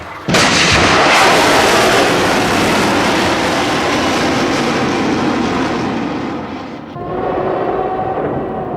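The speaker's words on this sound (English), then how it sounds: "In Baghdad, the guns began to fire." Anti-aircraft guns open fire over Baghdad during the 1991 Gulf War air raids, a loud, dense, continuous roar of booming gunfire that holds steady for several seconds before easing slightly and carrying on.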